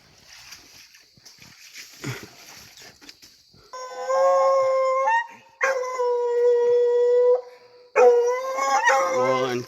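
Coonhounds howl at raccoons treed overhead, long sustained bays rising one after another, loud and close, after a stretch of rustling and faint talk.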